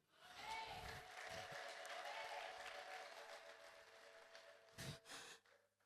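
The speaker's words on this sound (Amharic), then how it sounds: "አጨብጭቡ።" Faint, scattered applause from a congregation during an Evangelist Genet prayer service at church, a soft wash of clapping with a few louder bursts near the end.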